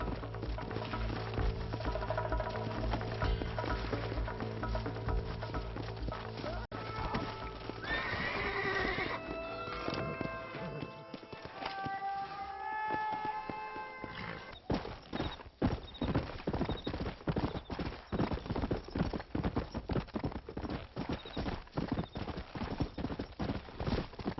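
Horse hooves clip-clop steadily with a few whinnies in the video game Red Dead Redemption, over a low musical drone; later the hoofbeats turn into a quick, rhythmic gallop.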